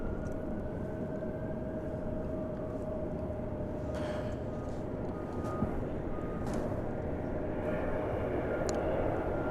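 An American Airlines Boeing 737-800 passes in the morning at Dallas Fort Worth airport, a steady broadband jet roar with a faint whine, heard from a distance with no talking.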